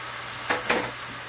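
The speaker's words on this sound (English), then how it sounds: "I'm just gonna cover down the pot for a few minutes and just let it saute." Jamaican pepper shrimp sautéing in a covered pot gives a steady close sizzle and hiss, with two brief swells of stirring or spattering over the continuous frying.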